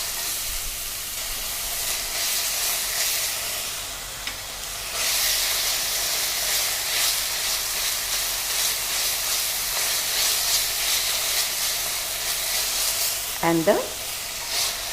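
Ginger garlic paste and green chilies sautéing in a pan, a loud, steady hissing sizzle that swells slightly partway through, with a brief voice near the end.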